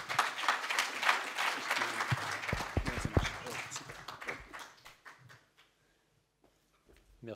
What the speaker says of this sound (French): Veuillez applaudir, mesdames et messieurs